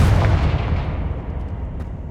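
Confringo fire spell blasting in the video game Hogwarts Legacy: a loud booming burst at the start whose low rumble decays and trails off over about two seconds, with no talk.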